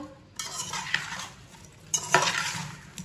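Mango pickle mixed with oil is stirred in a bowl, making a few short wet, squelching scrapes and clinks of the spoon, close and moderately loud with pauses between strokes.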